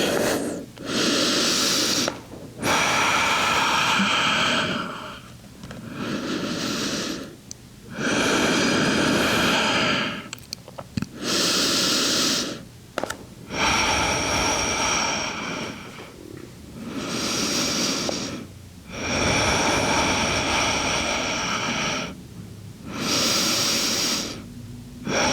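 Slow, deep breathing during a yoga flow comes in long, loud in-and-out cycles, close and unhurried, with brief pauses between breaths and no talking.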